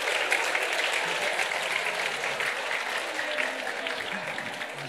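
Steady applause from a seated audience at a talk on martial arts metaphors, continuous dense clapping at moderate level without a break.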